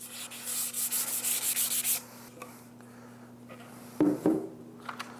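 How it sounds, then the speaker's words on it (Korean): Sandpaper is rubbed by hand across a walnut cutting board in a quick run of close, rhythmic rasping strokes for about two seconds, then a few fainter scrapes and light handling knocks. "저는 그래서 이제 전체적으로 한번 샌딩을 다 해봤는데"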